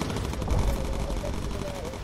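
Dense, continuous machine gun fire from a bomber's gun turrets in the World War II bomber game Bomber Crew, using incendiary rounds, a steady loud roar of rapid shots with a faint engine drone underneath.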